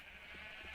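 Sheep bleating in the Minecraft video game, a couple of soft, short bleats over a steady background hum, with no talking.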